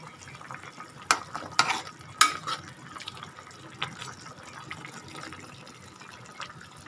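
Shrimp go into a pan of frying taro curry with a few sharp splashes and clatters, then a steady low sizzle and stirring continues close by.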